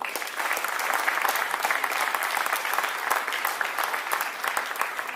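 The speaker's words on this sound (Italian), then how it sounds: "Vi chiedo un grosso applauso" A large audience claps continuously, a dense, even roar of applause that holds steady from start to finish.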